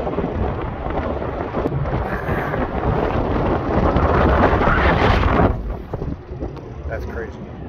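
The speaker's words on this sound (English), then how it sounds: "So it's windy right here," Loud, gusty wind beside a building on a Southwest highway stop buffets the microphone with a heavy roar that eases near the end; a voice is faintly audible beneath it.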